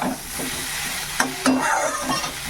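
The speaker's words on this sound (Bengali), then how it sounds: "এই যে পেঁয়াজ আর বেগুনটা ভেজে নিলাম" Onion and eggplant frying in a pan, a steady soft sizzle with a few sharp clicks of a spatula stirring the pieces, close and moderately quiet.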